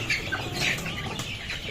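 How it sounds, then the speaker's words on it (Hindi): Chickens let out of their coop in summer give short, close clucks and soft squawks over a steady background hum, with a brief flutter of movement. "अब बारी बारी परिंदों मुर्गी को निकालता हूँ"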